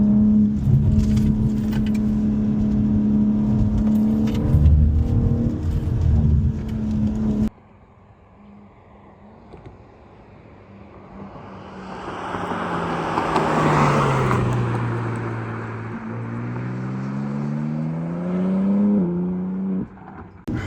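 BMW M4 Competition engine on winding California roads, a steady drone under cabin noise that later swells into a rising rev and falling pitch as the car accelerates and eases off, fairly close and loud.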